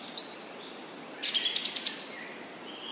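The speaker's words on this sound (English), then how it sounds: "tanagers are known for their lively and melodious songs, which include various wobbles, whistles, and trills" A tanager's song, a few high, clear whistled notes and brief chirping phrases with pauses between them, fairly close and moderately loud against a quiet background.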